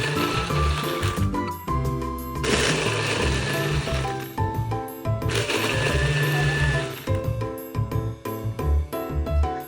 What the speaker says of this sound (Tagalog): takpan na natin dahil ready na siyang i-blend.